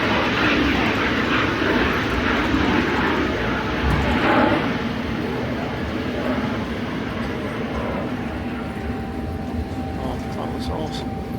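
An airplane taxis past at an airport, a steady broadband engine roar with a low rumble holding close and loud throughout, swelling slightly near the middle, while a voice speaks over it.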